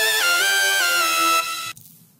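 Layered trap lead synth built in Serum, a bright, buzzy sustained tone with pitch bends and gliding slides that plays loud and close, then cuts off abruptly into a brief fading tail.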